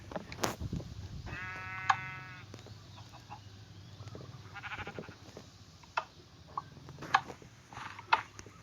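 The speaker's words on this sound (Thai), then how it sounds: "แกะ" A sheep in Minecraft bleats in a short wavering call, followed by scattered clicks and soft thuds against a quiet background hum.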